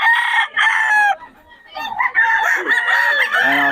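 Rooster crowing loudly and close by at a busy market where chickens and sellers gather, several drawn-out crows following one another with brief pauses and other birds clucking between them.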